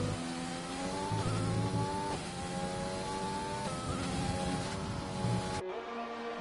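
An F1 race car in a Spain racing video game holds a steady high engine whine with several gear shifts, rising and dropping in pitch, then cuts off abruptly near the end, with no talk.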